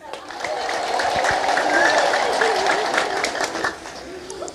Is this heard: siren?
no